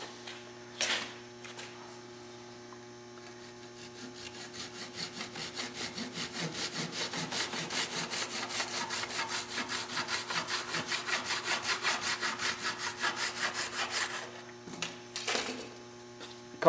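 A wooden dowel clamped in a vise is cut with a hand saw, giving a steady run of rhythmic rasping strokes that build in loudness and then stop, close up over a constant low electrical hum.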